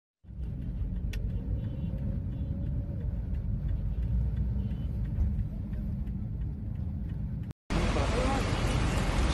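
An old car drives along with a steady, heavy low rumble from inside the cabin that continues almost unbroken. A brief cut is followed by a brighter road roar.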